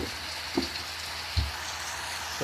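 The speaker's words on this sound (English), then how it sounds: "It's raining." Steady rain falls at an airport in the game Real Flight Simulator, an even, close hiss of drops with a few faint low thumps mixed in.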